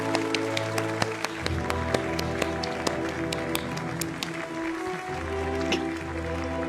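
Scattered claps pop irregularly over a low hum and background murmur, a small group applauding loosely rather than in rhythm.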